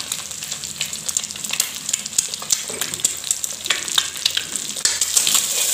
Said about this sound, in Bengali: ডিম দুটা মই গুড়িকৈ ভাজি লওঁ।